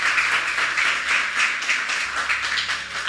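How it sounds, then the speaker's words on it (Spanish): Church congregation clapping together in a steady, dense wash of applause, moderately loud and sustained throughout, with no voices standing out. "Bien fuerte ese aplauso a nuestro Dios"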